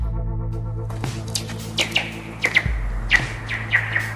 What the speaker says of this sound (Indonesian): Dia sama sekali tak menyangka lemparan itu menimbulkan suara bagaikan kicauan burung, juga terdengar bagaikan sound effect film.